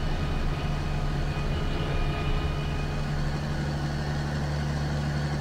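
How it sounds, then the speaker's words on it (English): Engine of a John Deere 8820 tractor in Farming Simulator 19 drones with a steady low hum and a faint high whine, constant and unbroken throughout, with no voices. "So you can hear the whine of the engine"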